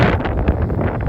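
Wind blows hard across an open farm field, buffeting the microphone in a loud, rough rush for about a second.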